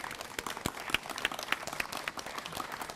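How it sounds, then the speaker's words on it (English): Town hall audience applauding panelists at a community college district event, a moderate, steady patter of clapping with a few sharper individual claps standing out across the whole stretch. "So would you please applaud our panelists one more time?"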